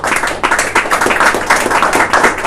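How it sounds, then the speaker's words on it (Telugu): A group claps in praise during a family prayer gathering, producing steady, loud, slightly uneven rhythmic claps that continue throughout with no break. "కొట్టు చప్పట్లు కొట్టు"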